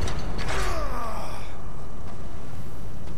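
Heavy door mechanism in the video game Darksiders creaking open with a loud, drawn-out groaning creak that sweeps downward, then fades into a low rumbling bed.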